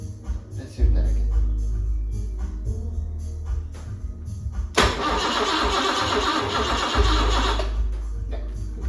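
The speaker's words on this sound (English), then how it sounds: "the engine cranks. That starter motor is good." Rebuilt engine in a BMW E23 cranking on its starter, with bursts of whirring turnover that rise into a loud, sustained churning cranking stretch in the middle, close and prominent, without catching into a steady run.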